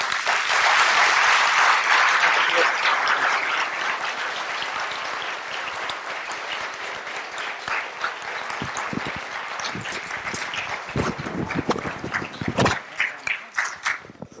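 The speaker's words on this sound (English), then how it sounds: "Why don't you thank me and applaud?" An audience applauds after a Marshall Center lecture by Gen. Michael V. Hayden: a thick wash of clapping at first that thins to scattered, separate claps toward the end.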